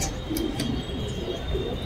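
Pigeons coo softly in a low repeated murmur from birds perched on a rooftop ledge, steady and close, with no one talking.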